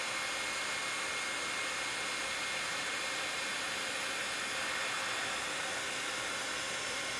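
A heat tool blows a steady, even rush of hot air while melting thick embossing powder on a craft project, holding a moderately loud hiss from start to finish with no talk.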